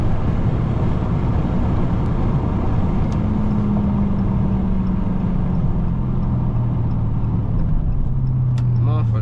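A Dodge Charger Scat Pack cruising slowly in daytime gives a steady low engine drone and road rumble from inside the cabin, continuous and fairly loud with no voices.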